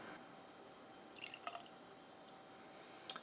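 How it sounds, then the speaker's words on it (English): A small amount of kiwi pomegranate melomel trickles into a Glencairn glass, giving faint, brief dripping and splashing sounds over a quiet background. "We're gonna just pour a little bit."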